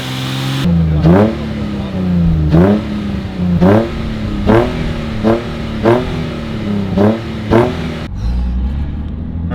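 Nissan 350Z engine being blipped repeatedly in place, about eight sharp revs rising and falling in a regular rhythm, loud and close, with a brief spoken word near the start.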